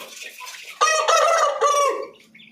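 A country rooster crows once, close and loud, in a long drawn-out cock-a-doodle-doo, with softer clucking from nearby chickens before and after it.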